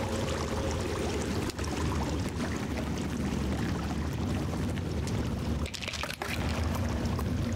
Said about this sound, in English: Okay, that was definitely water.